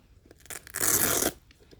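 Velcro straps on Minimen children's orthopedic shoes rip apart in one loud, close tearing burst lasting about half a second, with faint handling rustles before and after.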